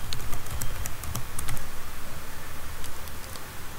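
A password is tapped out on a computer keyboard, a quick run of close, crisp keystrokes in an irregular rhythm, briefly pausing before a few final taps.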